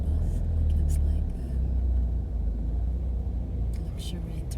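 A large Guardamar luxury tourist bus rumbles past on a street in Torrevieja, a heavy low engine roar swelling and fading nearby while people talk quietly over it.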